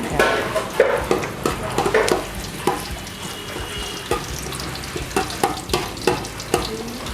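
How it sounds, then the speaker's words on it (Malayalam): Coconut pieces frying in hot oil for a fish roast, giving a loud, close sizzle broken by irregular scraping and clattering stirs, with no talking. "എണ്ണ ചൂടായി തേങ്ങാക്കൊത്തി ആദ്യം തേങ്ങാക്കൊത്തായി"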